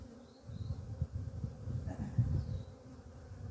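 Bees hum in a low, steady drone around six apiary hives, a close, dense buzz with slight swells and no voices.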